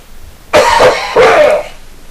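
A person coughs twice, close up and loud, two harsh, rough bursts with a short gap between them.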